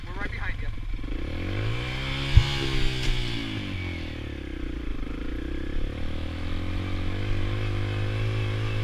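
Motorcycles race in a women's hare scramble, engines revving and droning at close range with a rising and falling pitch as the bikes pass, while people talk over the noise.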